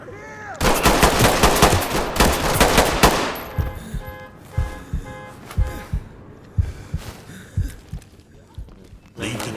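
Gunfire in the tactical shooter game Ready or Not: a loud, close burst of rapid automatic fire, then a string of separate single shots with short pauses between them.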